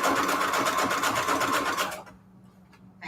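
A sewing machine runs steadily with a fast, even mechanical whir, then stops abruptly, leaving near silence.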